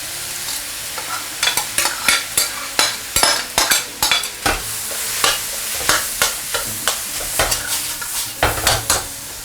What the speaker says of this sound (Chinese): 好，开中火慢慢给它炒散啊